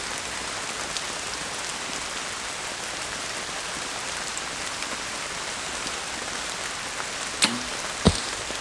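Steady rain falling outdoors during bad weather, a dense continuous hiss of drops on surfaces with a couple of brief nearby knocks near the end and no speech.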